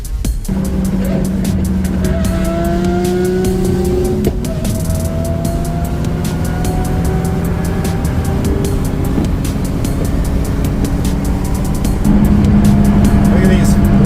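Lamborghini, McLaren and Porsche sports cars roll out to a Cars and Coffee meet at Circuit of the Americas, engines droning and revving steadily nearby with rising whines.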